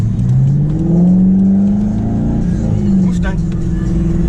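A Ford Mustang engine revs at a car meet, a loud low rumble that rises and falls with throttle blips, while people talk nearby.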